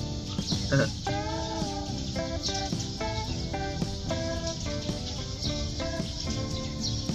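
Birds call and chirp in a leafy mini garden in the early morning, with repeated tonal notes over a constant insect-like background hum, fairly soft and steady.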